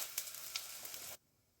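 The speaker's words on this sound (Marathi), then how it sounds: "हा चिरलेला लसूणही घालते मी इथं." Finely chopped garlic frying in a small amount of oil, a soft, steady hiss with light pops that stops abruptly after about a second, leaving near silence.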